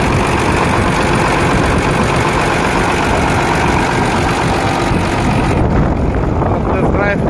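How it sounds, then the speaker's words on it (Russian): A 2014 MTZ 1221.2 tractor engine runs smoothly and steadily at close range, with a loud continuous broadband drone throughout and some wind noise on the microphone; the sound thins out slightly near the end. "Работает двигатель очень мягко."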